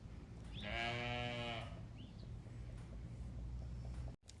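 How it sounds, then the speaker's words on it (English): A sheep bleats once, loud and close, in a farm dry lot during morning chores, followed by low rumbling background noise and no talking. "Sleepy sheep."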